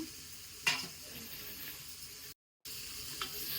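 Crushed ginger and garlic frying in a pan for mutton liver gravy, a soft continuous sizzle with a sharp clatter near the start, a brief dropout partway through, then the quiet hiss resumes.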